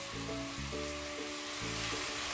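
Smoked meat sizzles as it goes into a hot pan for potato stew, giving a brief, steady, close hiss with a faint tonal hum running underneath.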